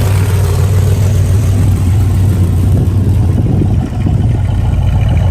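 A muscle car engine idling and rumbling steadily, deep exhaust tone throughout, close and loud with no talking.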